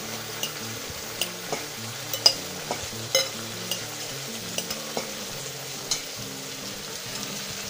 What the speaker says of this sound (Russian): И сейчас мы мясо закидываем в нашу поджарку.